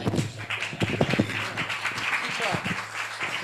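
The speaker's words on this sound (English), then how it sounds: "Round of applause, round of applause." Audience applause at an education symposium, a spread of clapping hands that carries on steadily under a speaker's voice throughout.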